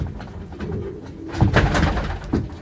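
Old Dutch Capuchine pigeons coo in soft, low rolling calls that rise and fall over about three seconds, with a slightly louder burst midway and a faint knock or shuffle underneath.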